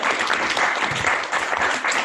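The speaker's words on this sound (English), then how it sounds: "Give her a round of applause" A live audience at a deductionist's mentalism show claps a round of applause, a dense, even patter of many hands continuing for about two seconds with no speech over it.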